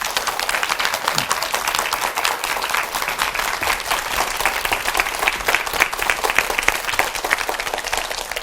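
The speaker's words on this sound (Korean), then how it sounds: "큰 박수로 부탁합니다." A studio audience at a televised lecture gives loud, close, sustained applause, the crisp individual claps packed into a dense, even patter that continues for over eight seconds without talk.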